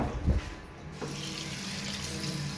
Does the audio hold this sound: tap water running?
yes